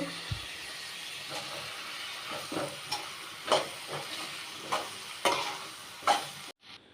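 Drumstick pieces fry in oil with tomato for a pesarapunugulu mulakkada curry, giving a steady low sizzle broken by several sharp scraping stirs, fairly close and moderately quiet, ending abruptly.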